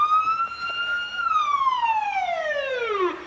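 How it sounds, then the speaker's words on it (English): A Waupaca Rural Fire Department fire engine sounds its siren during a Fourth of July parade: a loud, close wail that holds high, then sweeps steadily downward in pitch. "I wonder if each city has a little different siren sound."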